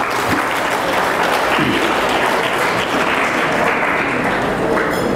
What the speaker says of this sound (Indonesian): Mari kita beri aplaus yang meriah.